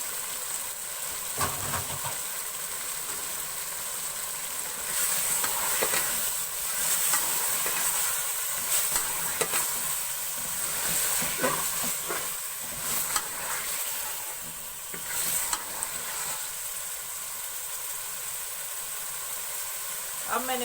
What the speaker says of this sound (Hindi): अब मैंने मसाले को भून लिया है।